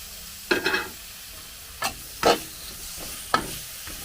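Tomatoes are tipped into frying masala in a pan and stirred for goat brain roast, giving a few short separate bursts of scraping and sizzle over a low steady fry, close and with no talking.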